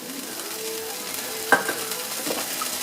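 Steak sizzles steadily in a hot frying pan, a continuous close crackle with one brief metallic clink partway through.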